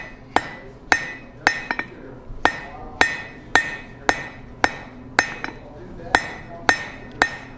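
Blacksmith's hammer striking hot steel on an anvil face while making a drift, about a dozen loud, ringing metallic blows in a steady rhythm, each with a short clanging decay, close up.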